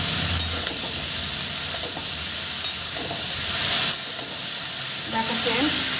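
Vegetables stirred and fried in a pan over a high gas flame, a constant loud sizzle and hiss with occasional scraping knocks from a spatula, close up and without speech.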